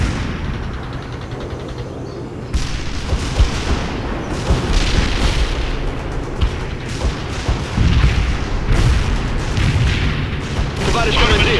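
Missile launch and explosions in the World in Conflict: Soviet Assault video game, continuous loud booms and battle rumble with repeated blasts and bursts of fire, with voices talking over the combat.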